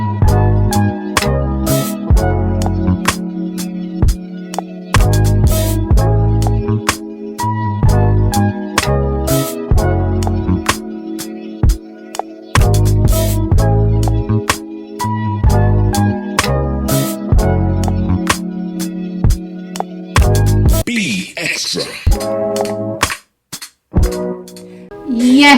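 The gospel song plays on air, with steady rhythmic backing, repeated chord hits and sung vocals, loud throughout before dropping out near the end.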